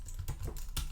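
Close, crisp keystrokes on a computer keyboard in irregular clusters, several taps in about a second, with no voices.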